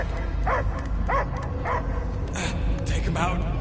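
A dog barks and yips in short repeated bursts, fairly close, mixed with other voices and background noise in a film scene.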